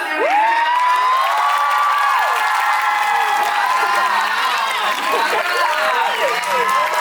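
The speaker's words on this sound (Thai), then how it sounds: "ขอเสียงปรบมือดังให้" A large crowd claps and cheers loudly and steadily, with whoops and voices rising over dense, continuous applause.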